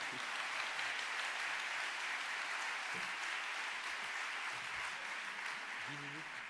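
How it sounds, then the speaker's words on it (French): Sustained audience applause at a sociology lecture, a dense, steady wash of many hands clapping at even loudness throughout, with faint voices murmuring underneath. "il faut l'applaudir aussi"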